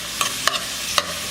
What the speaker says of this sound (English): So I'm going to cook the onions until they become nice and beautiful golden brown, about 3 to 5 minutes.